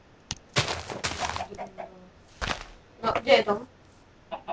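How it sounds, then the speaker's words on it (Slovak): Chicken clucking in the Minecraft video game, a few short clucks mixed in with a person talking over the gameplay. "Sliepka, hej."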